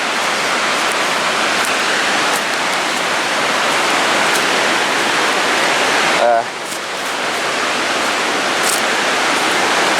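Steady, loud broadband rushing of falling water and spray at Rainbow Falls in Gorges State Park, continuous throughout with a brief dip near the middle.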